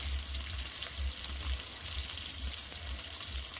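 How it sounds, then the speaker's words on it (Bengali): Potatoes cut into long strips, seasoned with a little salt and turmeric, fry in hot oil. Steady close sizzle and crackle with a low bubbling rumble runs evenly throughout, with no talk. "এবার ভালো করে ভেজে নেব।"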